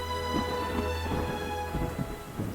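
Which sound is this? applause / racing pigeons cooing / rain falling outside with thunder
rain falling outside with thunder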